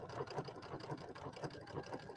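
Sewing machine running a triple stitch while assembling a quilt, a steady close mechanical whirring with a fast regular needle rhythm throughout.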